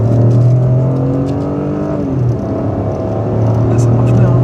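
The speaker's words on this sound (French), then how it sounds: "Il y a vraiment une réponse directement dès qu'on lui demande d'accélérer, elle accélère et couplé au thermique," A hybrid car accelerating hard, its electric motor working with the petrol engine: a steady low engine drone with a rising tonal whine, close and loud, while people talk over it.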